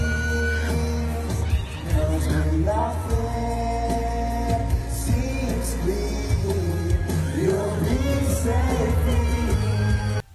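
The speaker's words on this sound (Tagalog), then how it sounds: "Grabe ang mga sigawan talaga ng mga fans." Fans screaming and shrieking at a Philippine mall show during a live duet serenade, a loud sustained crowd roar with whoops and yells that nearly drowns out the music playing underneath for the full stretch.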